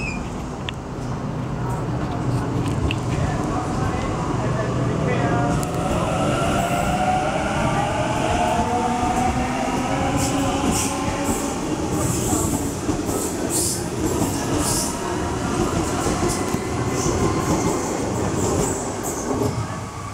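A passenger train pulls out of Waitara station in Sydney, a continuous loud rumble building with rhythmic wheel clatter and faint squeals as it gathers speed, with announcements heard over it.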